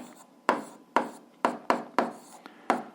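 A pen or pencil writes an algebra fraction on paper: six quick, sharp scratching strokes in an uneven rhythm, close and quiet with no talking.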